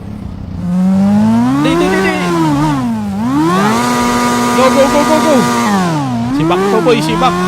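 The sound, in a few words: Kawasaki Ninja H2 motorcycle engine revving in GTA 5 video game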